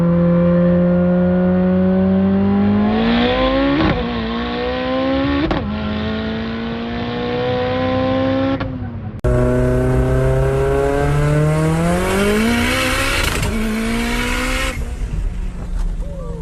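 A Mitsubishi Evo race car engine, tuned to around 1100 wheel horsepower, revs hard through repeated rising sweeps, with gear changes between pulls. Loud and close, with a sharper, brighter burst midway through.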